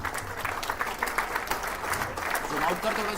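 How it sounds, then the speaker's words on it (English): A conference hall audience gives a sustained round of applause as a memento is presented to Union Minister Nitin Gadkari. The dense clapping runs steadily throughout with a faint murmur of voices mixed in. "Let us put a huge round of applause for sir."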